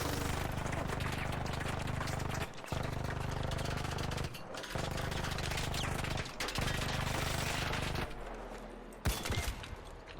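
Sustained automatic gunfire from a firefight in the video game ARC Raiders, loud and dense, broken by a few short pauses before the shooting resumes.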